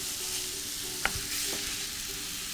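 Onions frying in a pan in a kitchen, heard as a soft, steady sizzle with a spoon or spatula stirring and one sharp scrape or clink, quiet and close, with no talking.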